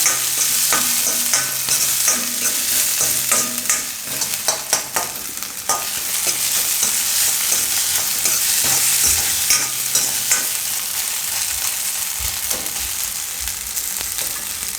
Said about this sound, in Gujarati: તો થોડીક વાર આને આપણે તેલમાં શેકી લેવું, એનો કાચો ટેસ્ટ ન આવે